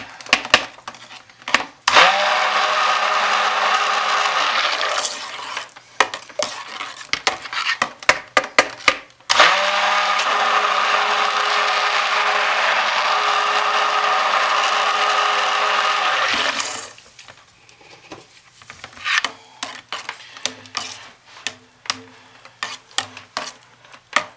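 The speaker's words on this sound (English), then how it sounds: "Stick blending with the scent oil in, which you normally is just absolute no-no." Stick blender whirring in soap batter mixed with scent oil, two long continuous bursts of steady motor drone separated by brief knocks and clatter, close and loud, with scraping and handling noises after.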